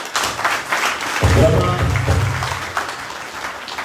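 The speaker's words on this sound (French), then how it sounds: "Ça s'applaudit." An audience at a London party event bursts into applause, a dense wash of clapping rising sharply a moment in and holding steady, with a voice briefly audible over it.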